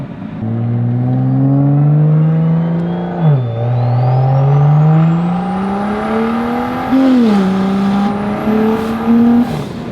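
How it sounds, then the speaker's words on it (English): A BMW 335i's N55 engine with a big single turbo at 24 psi revs hard and steady, pitch climbing, with a brief dip and a sharp whooshing surge as the dump pipe opens; loud and close. "It is the dump pipe. Yeah, you can tell when she opens up."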